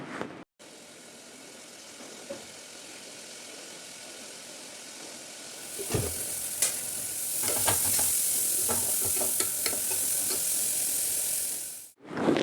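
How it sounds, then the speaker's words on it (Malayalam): Onions hiss and sizzle in hot coconut oil in a pressure cooker, starting softly and swelling into a brighter crackle with occasional stirring scrapes and clinks. "ഇനി കുക്കർ അടുപ്പത്ത് വെച്ച് വെളിച്ചെണ്ണ ഒഴിച്ച് സവാള വഴറ്റി കൊടുക്കുക"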